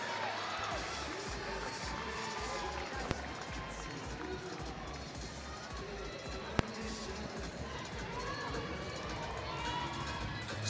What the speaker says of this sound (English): Hyping up the crowd. It is getting lit here in Gill Coliseum.